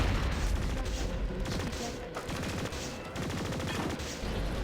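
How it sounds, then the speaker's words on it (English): Dense, nonstop gunfire and explosions fill the video game Blowout, rapid automatic bursts layered over booming blasts, loud and chaotic throughout with no pause. "The amount of explosions and noise in this game is really quite amusing."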